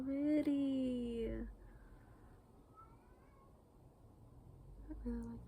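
A cat meows loudly in a long, drawn-out wail, then falls quiet before starting another meow at the end.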